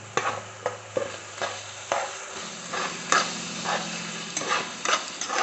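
Chicken curry with freshly added tomato puree is stirred in a pot, with repeated close scraping strokes over a gentle background sizzle and no talking.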